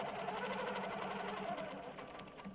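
A sewing machine runs steadily at close range, stitching a seam with a fast, even mechanical chatter that slows slightly toward the end, with no talking.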